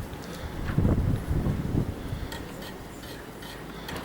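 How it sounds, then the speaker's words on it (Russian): Strong wind gusting outdoors near a rooftop, rushing and buffeting the microphone in a few loud bursts before easing into a softer steady blow. "ну ветер сильный"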